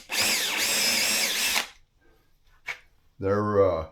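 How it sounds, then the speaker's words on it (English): A power drill bores holes into railroad rails, running in two loud bursts with a short sharp knock between them, and a voice speaks briefly during the pause. "I'm just drilling down in there."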